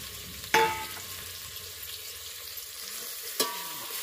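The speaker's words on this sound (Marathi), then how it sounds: "आता तेलात भाजायचं" Bitter gourd fries in oil with a steady, close sizzle, broken by two sharp clinks or stirs near the start and end; no one speaks.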